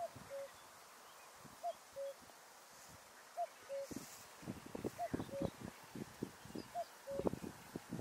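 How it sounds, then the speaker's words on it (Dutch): A common cuckoo calls near Slatina outside Prague, its two-note call repeating about five times at an even pace from some distance, with rustling and low voices in the later part. "Die koekoek schuimt hier dus ook rond."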